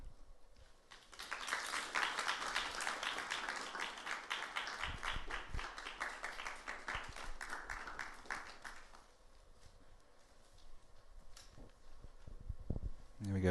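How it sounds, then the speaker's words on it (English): Audience at a conference applauding speakers as they return to the stage, a sustained burst of clapping for several seconds that thins out into scattered claps, moderately distant in a large room. "Can you give them a round of applause?"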